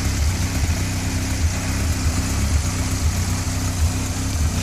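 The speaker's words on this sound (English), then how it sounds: "A Robin Hood with a 2-litre Ford Pinto engine." A Robin Hood kit car with a 2.0-litre Ford Pinto engine idles steadily close by, an even low rumble with slight fluctuations and no talking.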